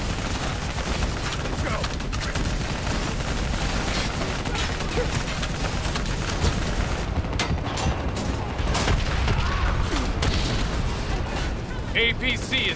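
Sustained heavy gunfire in a Call of Duty: Black Ops III battle, dense bursts of rapid shots and booming blasts overlapping continuously, loud and close, with voices talking over the combat.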